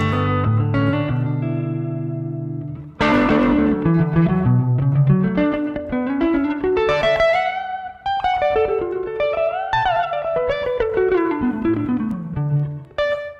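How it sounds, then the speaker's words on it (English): An electric guitar played through an effects pedal, sustained chords then melodic bends and slides with a soft reverb tail, no voices. "This is just with a little bit of reverb from the flame."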